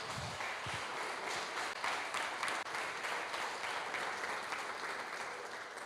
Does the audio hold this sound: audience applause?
yes